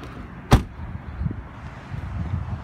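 The door of a 2018 BMW X6 sDrive35i closes with a single solid thump, close and sharp, followed by quiet outdoor ambience.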